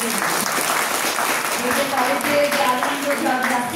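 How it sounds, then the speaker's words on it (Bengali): Freshers' audience clapping together in a hall, a dense steady burst of applause with voices mixed in. "এবার জোরেই একটা হাততালি দাও নিজেদের"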